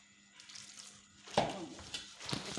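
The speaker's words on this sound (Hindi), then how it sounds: "थोड़ा सा पानी ऐड करेंगे।" Water poured into gram flour batter for pakora in a home kitchen, a short splashing pour that swells midway and then trickles, fairly close and alone without talk.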